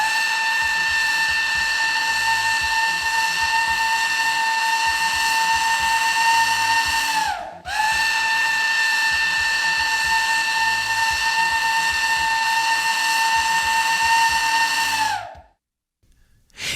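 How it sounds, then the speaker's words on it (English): Two long, loud steam whistle blasts sound from a refinery emergency whistle as an evacuation signal. Each steady, harmonic-rich tone holds for about seven seconds, the blasts separated by a brief gap, with no talk. "The evacuation signal is 2 long blasts of the emergency whistle."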